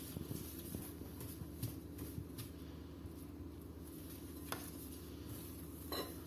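Milk stirred bit by bit into a crushed Oreo biscuit mixture for an eggless pastry, with soft steady scraping and faint utensil taps against the bowl at close range, no voices.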